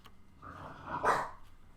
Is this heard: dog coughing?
yes